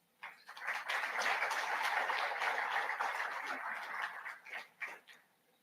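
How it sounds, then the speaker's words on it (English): A conference audience applauds the shipboard crew, a sustained round of clapping that swells quickly, holds steady for several seconds, then thins into a few scattered claps before fading out. "I think all of you deserve a round of applause"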